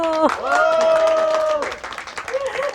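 Audience clapping at a literature talk event held on a rooftop yard, a brisk burst of hand claps mixed with raised voices and a drawn-out vocal tone, then scattered claps fading under talk.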